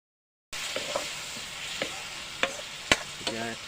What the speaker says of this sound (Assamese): এয়া ভাজি আছোঁ।